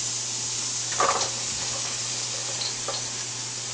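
Peppers and seasoned potatoes fry in a pan, a constant sizzling hiss with a couple of brief scraping stirs and clinks over a low steady hum.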